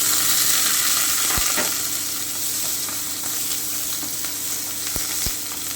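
Radish frying in a pan for a sweet and sour chutney, a dense steady sizzle with a few sharp spoon taps as it is stirred, close and loud.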